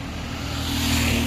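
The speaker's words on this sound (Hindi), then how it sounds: "बहुत ही रफ्तार से जा रही है बसें।" Vehicles rush past at speed on a highway, a continuous close roar of engines and road noise that swells toward the end.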